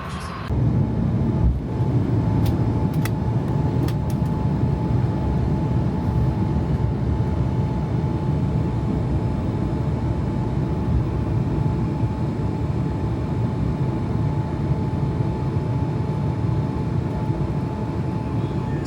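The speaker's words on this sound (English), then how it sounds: "This aircraft is so quiet, this is unbelievable." A steady, loud, broadband roar fills the cabin of an airliner cruising from Munich to Oslo, with a faint constant tone and a few brief clicks near the start, and no talk.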